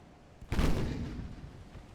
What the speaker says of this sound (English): Our turrets ought to be able to fire on his battlecruiser soon. There they go.